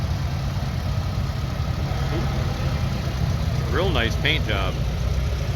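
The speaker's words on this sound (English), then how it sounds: "Love the big throaty diesels." A big throaty diesel tractor engine, at a Red Power show, idles with a steady low rumble close by while someone talks over it.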